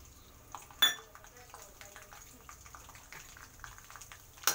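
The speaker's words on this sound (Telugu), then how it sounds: "ఇప్పుడు పల్లీలు వేస్తున్నా చూడండి" Peanuts tumble into a pan of hot oil with a brief rattling clatter, then a soft, steady frying sizzle with light clinks from stirring.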